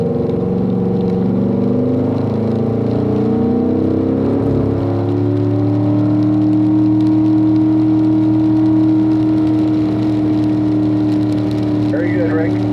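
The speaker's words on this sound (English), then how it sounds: "when you get on the straightaway, start squeezing on that throttle once again" A race car at Spring Mountain accelerates down the straightaway in pouring rain, its engine droning loudly and rising steadily in pitch while an instructor's voice talks over it.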